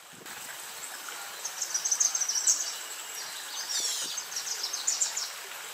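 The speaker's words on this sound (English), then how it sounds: "The Wilson's Warbler is one of the smallest, and it has a bubbly and excited song." A Wilson's Warbler, one of the smallest warblers, gives a bubbly, rapid jumble of high chirping notes in short repeated bursts, moderately close over a soft steady outdoor hiss.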